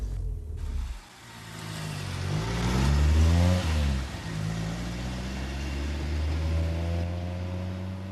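Car driven up a road in 1986, its engine revving and shifting through gears in rising and falling tones, a steady mid-pitched motor drone that fills the cabin with no talking.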